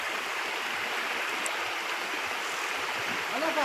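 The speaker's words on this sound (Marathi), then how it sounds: "गतीनं पाणी खाली येत आहे द्या" Water rushing fast down a pipe makes a steady, close, even roar that swells slightly at the very end.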